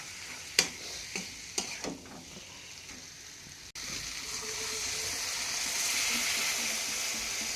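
Meat sautéing in a pan gives a few clear scrapes and clicks of stirring, then a steadier, louder sizzle with a faint bubbling.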